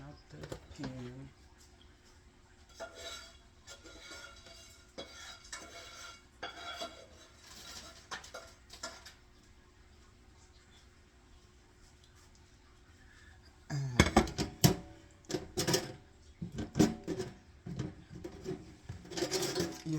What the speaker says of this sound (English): just cleaning out the pan